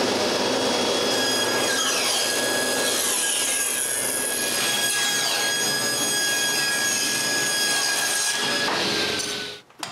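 A saw works through wood for a fishing rod rack in steady back-and-forth cutting strokes, close and continuous, with a thin sustained whine over the rasp before it stops abruptly at the end.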